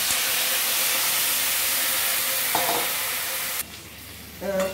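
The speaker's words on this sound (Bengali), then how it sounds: "কড়াইতে জল দিয়ে সবটা ভালোভাবে নেড়ে নিয়ে" Food sizzles and hisses steadily in a hot wok while being stirred with mango pieces and water added, the frying noise dropping off near the end with a faint clink.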